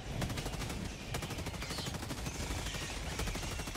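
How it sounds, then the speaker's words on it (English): Rapid gunfire from a strafing run in a bug-fighting video game, a dense continuous rattle of bursts lasting several seconds, loud and close throughout. "Strafing run!"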